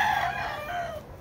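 A Kelso yellow-legged rooster, about seven months old and raised on a breeding farm, lets out one loud, close crow lasting about a second that trails off at the end.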